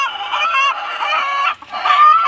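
Loud, close chickens clucking and squawking in a dense flock in a coop, overlapping calls continuing with a brief pause near the end.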